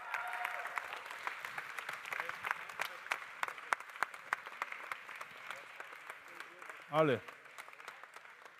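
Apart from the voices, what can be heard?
audience applause at the Swiss Coffee Festival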